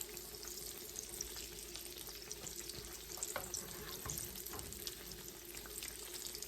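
Cinnamon dessert bites frying in oil, a constant bright hissing sizzle with scattered pops and spatters, steady and close with no talking.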